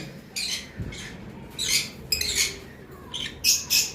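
A pineapple conure parrot making short, harsh chirping squawks in several separate bursts, close and moderately loud, with no talk.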